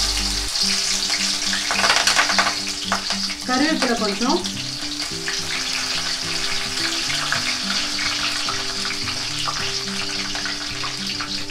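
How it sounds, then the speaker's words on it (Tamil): Cinnamon, cloves and cardamom sizzle and crackle steadily in hot oil, a continuous frying hiss with brief stirring clatter and a few words spoken partway through. "இப்போ நான் வந்து தாளிக்கிறதுக்கு பட்டை, கிராம்பு, ஏலக்காய் போடுறேன்."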